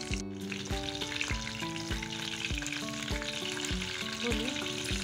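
Chicken gola kabab frying on a very low flame, a steady dense sizzle with faint popping throughout, close and continuous, with no voices.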